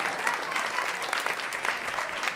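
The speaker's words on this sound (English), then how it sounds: "Thank you for clapping at my misery and pain." A comedy club audience claps continuously, a dense even wash of applause filling the room with no pauses.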